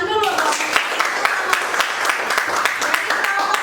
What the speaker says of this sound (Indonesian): Nah, kita tepuk tangan dulu.